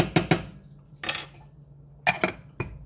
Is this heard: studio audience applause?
no